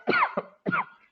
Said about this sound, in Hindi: मैं खांस बहुत रहा हूँ